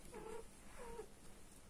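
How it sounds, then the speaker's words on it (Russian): A cat recovering from surgery gives two faint, drawn-out distressed moans in a quiet room, each lasting under a second, with steady background hiss between them. "Мучается кошка."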